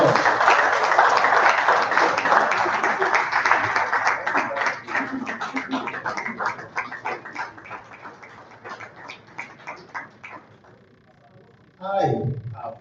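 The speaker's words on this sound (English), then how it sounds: "I want all of us to give him a resounding applause" A seminar audience breaks into loud, dense applause that fills the room, then thins over several seconds into scattered individual claps and fades out. A short burst of louder noise follows at the very end.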